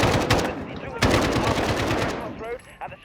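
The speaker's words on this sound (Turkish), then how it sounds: "Ben Aşağı doğru sıkıyorlar da camdan" Rapid enemy gunfire shooting through a window in Call of Duty: Modern Warfare (2019), dense automatic bursts loud and close for about two and a half seconds, then tapering off into faint trailing sounds.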